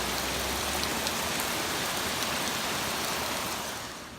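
Torrential rain pouring down in a steady, dense roar at close range, unbroken for the whole stretch before easing slightly at the very end.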